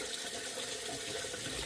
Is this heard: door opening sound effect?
no